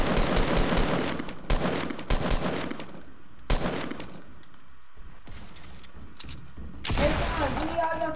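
Rapid bursts of Fortnite gunfire crackle in loud, sharp volleys separated by short gaps, with players talking over the shooting.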